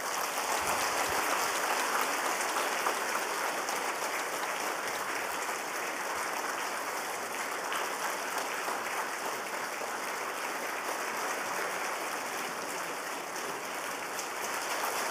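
A church congregation applauds award winners, a dense, steady wash of clapping from many hands that carries on evenly for the whole stretch.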